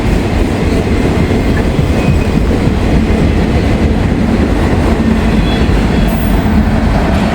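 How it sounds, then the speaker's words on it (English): A Norfolk Southern freight train hauling auto rack cars rumbles past loudly and continuously, wheels clattering on the rails with a steady roaring drone and occasional faint metallic squeals. "You don't get many Norfolk Southern auto racks around here."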